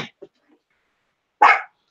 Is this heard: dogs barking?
yes